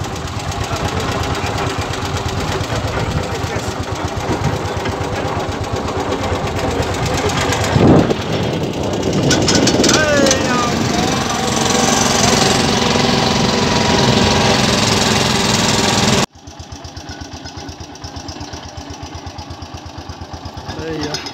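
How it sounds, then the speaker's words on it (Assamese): A motor boat engine drones steadily and loudly on the Brahmaputra river, with a rough mechanical rumble, then drops abruptly to a quieter, muffled hum near the end. "চলি গ'ল মেচিন নাও"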